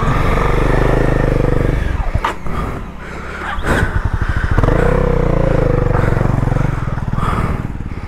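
A motorcycle engine on an off-road trail revs loudly and roughly up close, surging and falling with the throttle as a rider works the clutch. Scraping clatter and brief shouts are heard alongside it.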